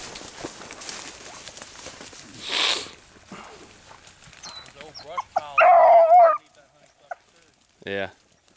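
Hunting dogs on a rabbit hunt give out a few loud barks and a short harmonic baying burst near the end, mixed with rustling brush and people talking.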